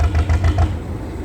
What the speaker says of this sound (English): I wouldn't have a clue how to maintain an engine like that.